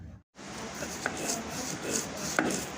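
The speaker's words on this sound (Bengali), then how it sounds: "বেটে নিচ্ছি, সব কিছু ফাটায় বাটি দিব।" Whole cumin, fennel, cardamom, cinnamon and peanuts crushed on a grinding stone, giving rough, rhythmic scraping and rubbing strokes with a couple of sharp knocks, fairly close.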